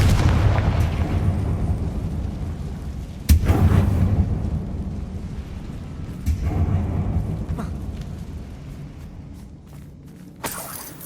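Confringo spells blast in a mine in Hogwarts Legacy, giving heavy booming explosions with rumbling tails, one sharp loud burst followed by further thuds and a final crack, over a low game ambience.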